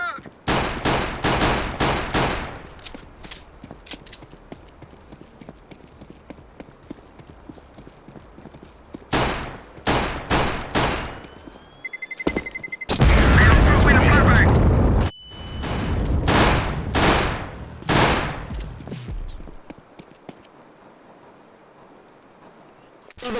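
Gunfire and a grenade blast in the shooter game CS:GO: rapid bursts of shots, then a loud sustained explosion roar lasting a few seconds, followed by more volleys of gunfire.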